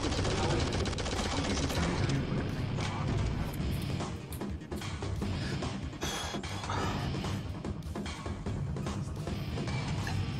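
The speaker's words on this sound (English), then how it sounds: "Machine gun like I have" Machine gun fire in the Shadowgun Legends video game, a loud continuous rattling burst of rapid shots running throughout with dense crackling impacts and a brief dip midway.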